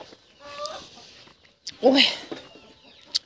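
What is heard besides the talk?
chicken clucking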